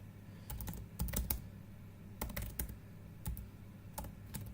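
Quiet typing on a computer keyboard during a coding session, with irregular clusters of light key clicks separated by short pauses over a low steady background hum.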